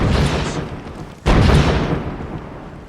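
A heavy, booming artillery blast cuts in sharply mid-clip over a continuous low rumble, cannon fire in a Band of Brothers battle scene.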